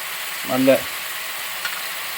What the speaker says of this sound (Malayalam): നാരങ്ങാ നീരും കൂടെ ഒഴിച്ച് കഴിഞ്ഞ് 1 ടേബിൾ സ്പൂൺ നാരങ്ങാ നീര് ഒഴിച്ച് കഴിഞ്ഞ് നന്നായിട്ട് ഇളക്കുക.